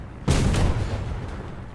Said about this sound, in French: Un coup de MG et c'est fini.